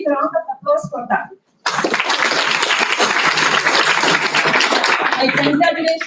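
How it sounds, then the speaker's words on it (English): Someone speaks briefly, then loud, sustained audience applause fills a Foundation Day celebration at IISER Tirupati and carries on to the end, with a voice returning faintly over the last moments. "so a big round of applause for that"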